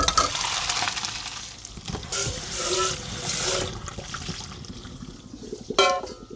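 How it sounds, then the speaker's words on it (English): Cooked pasta poured out of a pot to drain for white cheddar mac and cheese, a close, steady rush and splash of water lasting several seconds, with a brief clatter near the end. "Pour my pasta out."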